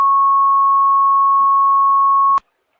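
A single loud, pure electronic censor beep holds steadily for over two seconds, then cuts off abruptly into silence.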